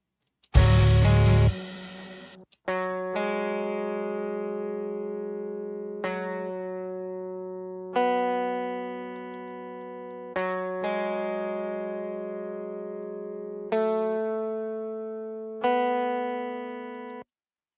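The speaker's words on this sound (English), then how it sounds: "So what you get is just, again, DI guitar." A clean, unprocessed direct-input electric guitar plays a series of low plucked notes about every two to three seconds, each ringing and slowly fading. A short loud noisy burst comes first.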